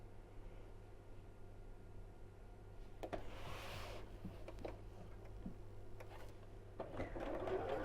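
Sewing machine stitching down the short sides of quilt-as-you-go blocks, a faint steady mechanical whir with brief pauses and light handling noises, quiet and up close.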